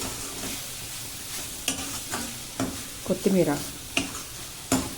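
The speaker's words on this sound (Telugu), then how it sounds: "ఉల్లిపాయని రంగు మారే వరకు కూడా వేయించుకోండి." Onions and green chilies fry in a pan, a soft steady sizzle under repeated scraping knocks of a spoon stirring them, fairly quiet and close.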